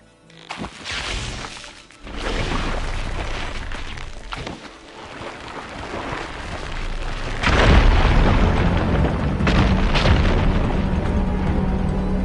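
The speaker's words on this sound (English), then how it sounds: "Igniting my fire beam should clear it." Heavy booming blasts as a fire beam smashes rubble in the Horizon video game, several deep explosive bursts swelling into a loud sustained roar of crumbling debris, with no talk.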